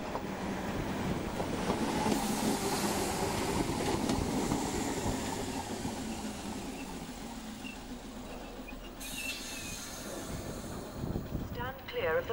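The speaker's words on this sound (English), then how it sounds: "Another ex-West Anglia unit is seen at Manor Park." An ex-West Anglia train unit rumbles through Manor Park station with a broad, steady roar that eases off, followed by a brief high squeal of wheels near the end.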